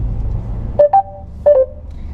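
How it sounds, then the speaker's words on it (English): Two short electronic chimes from a 2020 Mercedes A180 sedan's voice command system, each a pair of quick tonal beeps, ring out clearly over a low steady rumble of road and engine noise. "That there is the sound of the command system with the command"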